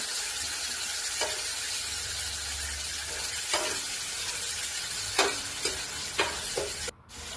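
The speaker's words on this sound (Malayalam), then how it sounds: "അപ്പോൾ അതൊന്ന് മറിച്ച് കൊടുക്കാം. നമ്മൾക്ക് നല്ല കോര മീൻ ഫ്രൈ ചെയ്യണം." Kora fish frying in a pan, a constant loud sizzle with several clicks and scrapes of turning toward the end, no talk.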